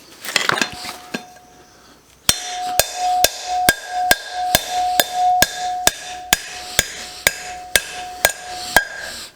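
A hammer drives a caravan wheel bearing home through a cone tool, sounding as a fast series of about fifteen sharp metallic strikes with ringing overtones after a few scattered knocks, each blow close and loud with no voices.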